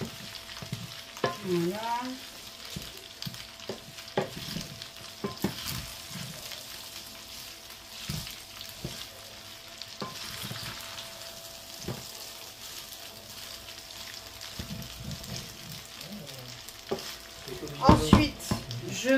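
Bacon lardons sauté in a pan with a steady sizzle and repeated stirring scrapes, brief speech near the start and a sharper clatter of utensils toward the end.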